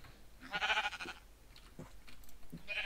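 Several Minecraft sheep bleat in a row, nasal wavering calls separated by short pauses, moderately close and clear with no talking over them.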